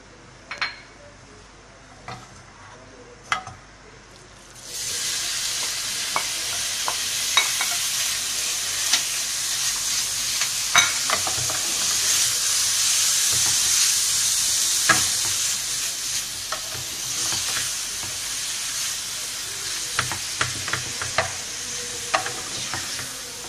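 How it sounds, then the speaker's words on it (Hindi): After a few quiet seconds, a loud steady sizzle of a beef and potato cutlet mixture frying in oil starts and continues, with occasional clinks of a utensil stirring the pan. "अब इसको थोड़ा सा हमने भूनना है, इतना कि ये पिंक से थोड़ा वाइट की तरफ चला जाए।"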